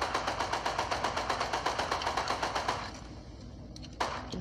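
A gun fires rapidly in the video game Choo Choo Charles, a steady string of loud close shots for about three seconds, then stopping, with a single sharp report near the end.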